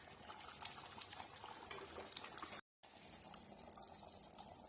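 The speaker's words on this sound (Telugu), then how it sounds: "ఇలా బాగా బబుల్స్ వచ్చినంత వరకు ఉడకనివ్వాలి" Masala water for Andhra-style fish curry boils hard in a covered pot on the stove, a steady bubbling and simmering hiss that runs throughout, broken by one brief cut.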